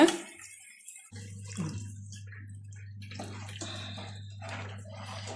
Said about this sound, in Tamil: இப்போ மிக்சியை கழுவி அந்த தண்ணியை எடுத்துக்கலாங்க